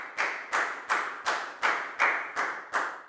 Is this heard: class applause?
yes